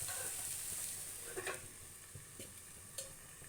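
Potatoes frying in oil in a pan, a faint continuous sizzle broken by a few soft scrapes and taps of a spatula, quiet and close with no talking.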